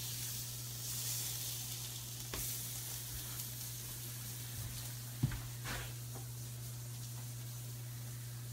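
Butter sizzling steadily on a hot grill while whitefish bacon cheeseburgers are cooked, a soft continuous hiss and crackle with one brief sharp pop midway, fairly quiet and without talk.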